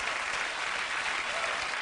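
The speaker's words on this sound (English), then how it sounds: "I'm begging you to stop applauding every single entry in this list." A studio audience at a CBS late-night talk show applauds steadily, a dense, even wash of clapping with no break.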